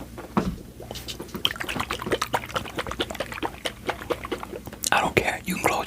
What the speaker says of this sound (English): You want to hear the water globe again?